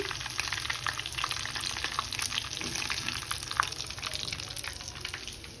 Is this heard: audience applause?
no